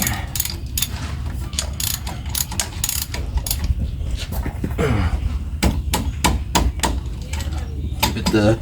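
Bolts on the brake caliper of a 1999 Ford Super Duty 7.3 dually truck are tightened with a 21mm wrench, producing a dense run of rapid ratcheting clicks and metallic clatter, close up and continuous, with brief grunting breaths.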